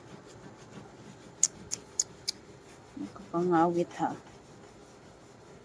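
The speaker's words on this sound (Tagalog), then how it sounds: "Kuskusin natin ng maayos." Quiet hand scrubbing of a stubborn spot on a household surface gives four short, sharp rasping strokes in a row, followed by a brief spoken remark.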